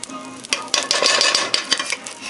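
Butter hits hot corn oil in a pot and sizzles loudly and close, a dense continuous hiss with crackling spits and a few stirring scrapes, with no voices over it.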